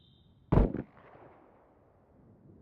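A single sharp distant gunshot in the survival game SCUM, one loud burst followed by a long fading echo tail, with another shot just starting at the end.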